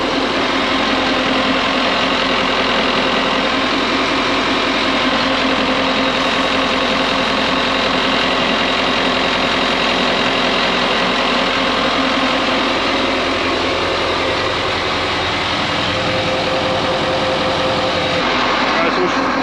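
A marine 8.2L Detroit Diesel engine idles steadily and loudly close by, its broad, even rumble continuing without a break, with voices speaking over it.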